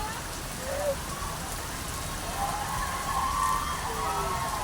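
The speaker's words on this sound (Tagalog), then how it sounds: "Ulan." Steady rain hisses down in a dense, even wash of noise at Butterfly Beach in Tuen Mun, Hong Kong, during an outdoor barbecue, with faint voices murmuring underneath.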